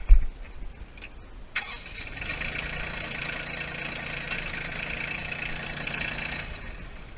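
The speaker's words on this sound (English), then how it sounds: "let's go ahead and start the tractor" A farm tractor's engine cranks and catches with a sharp burst, then settles into a steady, moderately loud idle that runs on alone for several seconds.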